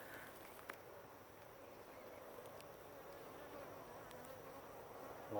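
Honey bees buzzing around an open, calm hive, a faint steady drone filling the background with a few brief louder passes close by.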